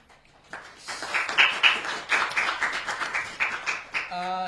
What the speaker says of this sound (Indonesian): tepuk tangan untuk Wani Tombok